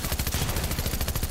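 Rapid video-game gunfire from a mission about dealing headshot damage to players with common weapons, a dense, continuous burst of loud shots with no talk.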